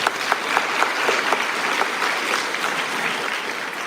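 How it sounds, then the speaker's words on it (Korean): Church congregation applauding in congratulation at a Sunday service, a dense, steady patter of many hands filling the room evenly from start to finish with no voices on top. "큰 축하의 박수"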